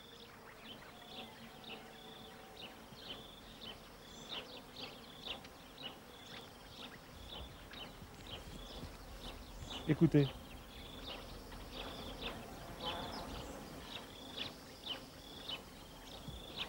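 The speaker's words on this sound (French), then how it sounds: "Ce sont des abeilles. Et elles butinent les fleurs d'un amandier." Bees forage on almond tree blossoms along a trail in southern Morocco, making a faint, continuous buzzing with scattered bird calls, and someone briefly speaks.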